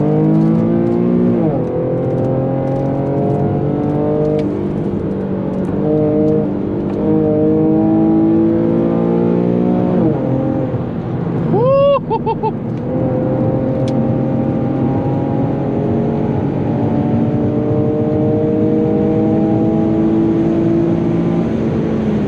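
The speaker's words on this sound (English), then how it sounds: "Let's do some freeway pulls" Infiniti G37X pulling hard on a freeway, the engine note climbing steadily through several gears with rising harmonics and brief shift breaks, loud and close from inside the cabin throughout.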